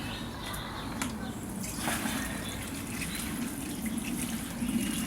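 Water poured onto broad bean plants in a garden, a steady soft trickle that runs throughout at close range.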